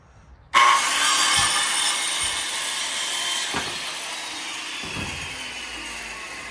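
A saw cuts through wood in a century-old house under renovation, making a steady close rasping that runs continuously after a sudden start, with a few faint knocks underneath.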